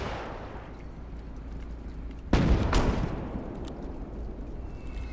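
Single gunshot fired at an enemy mortar position in the Gates of Hell war game, a sharp loud crack at mid-clip with a rolling echo over steady battlefield background rumble.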